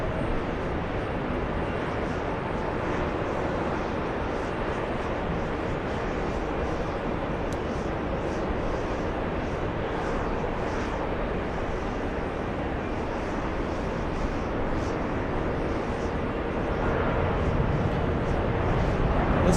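Airliners land on the parallel runways 22 right and 22 left at LAX at dusk, a steady broadband jet roar that stays loud and constant from start to finish.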